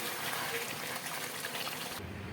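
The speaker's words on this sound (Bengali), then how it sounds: "আমার চিকেন রান্নাটা হয়ে গেছে অন্য একটা পাত্রে আমি ঢেলে নিচ্ছি" Thick cooked yogurt chicken curry pours from a pan into another pot with a steady gushing, splashing rush for about two seconds, then cuts off abruptly into quieter background.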